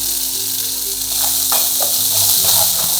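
Ground masala paste hits hot oil for a mutton curry, giving a loud, close, hissing sizzle that swells with a couple of sharper spatters and keeps going without pause.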